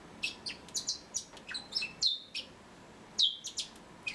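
Bourke's and Splendid parakeets chirp in a quick series of short, bright tweets with brief pauses between them. The calls are fairly close but soft, with no talking.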